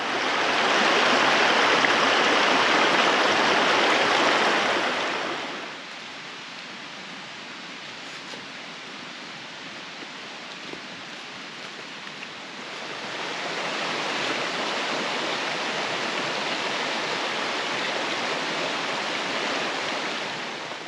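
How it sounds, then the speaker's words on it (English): A stream in the Smoky Mountains rushes behind a campsite, a steady broadband roar that drops away for several seconds midway, then returns slightly softer. "the roar of the water behind us"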